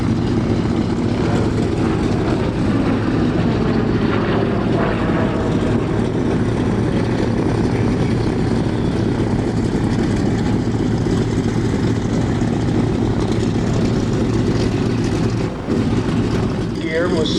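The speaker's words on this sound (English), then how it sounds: "Here's the Zero coming in." A WW2 Zero fighter's propeller engine drones loudly and steadily as it flies in at a World War II airshow in Reading, Pennsylvania, a continuous roar from start to finish.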